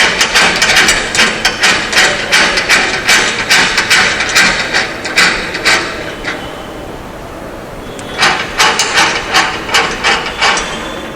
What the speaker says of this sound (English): it is now time to tighten the screws